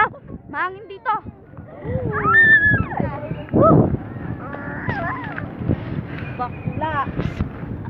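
Wind gusting against the microphone at the Pililia windmill site, heard as low rumbling buffets under several people talking and exclaiming nearby.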